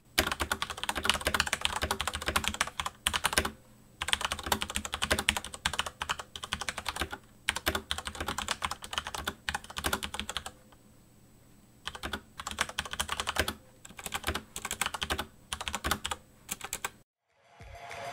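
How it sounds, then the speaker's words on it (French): Rapid clacking of a Roccat Ryos TKL Pro mechanical keyboard with MX Brown switches, bursts of fast typing broken by short pauses, close and clear with no talking. "On reste sur un clavier mécanique disponible avec la plupart des switches, dans mon cas, l'MX Brown."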